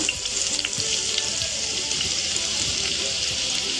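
Chopped onion hits hot oil in a pan for an egg curry, giving a steady, bright sizzle with faint crackles, close and continuous throughout.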